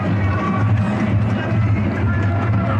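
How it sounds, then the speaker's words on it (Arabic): Fans cheer in the stands at a football match between Al-Rayyan and Al-Sadd, a steady crowd murmur and chanting under an excited commentator's voice. "الجماهير تؤازر تشجع، لكن ليس كل الجماهير"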